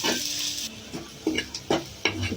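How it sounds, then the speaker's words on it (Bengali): Onions frying in a wok, a steady sizzle broken by several scraping stirs of a spatula against the metal, close and fairly loud. "পেঁয়াজটা অনেকটা ভাজা ভাজা হচ্ছে, একটু বাদামি কালার আসছে।"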